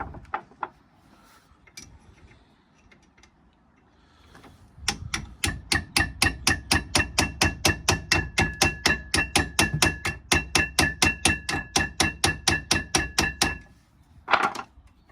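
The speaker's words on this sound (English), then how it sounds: "Give it a little tap. A little tap, tap, tap." Steady, quick tapping on Saab 9-3 rear brake parts: roughly thirty crisp, evenly spaced metallic knocks close by, following a few scattered taps.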